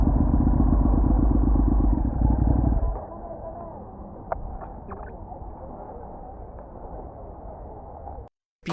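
Ducati 848 Evo twin-cylinder superbike with a trellis frame, engine loud and throbbing under way for the first few seconds, then easing to a quieter running drone with small clicks before cutting off.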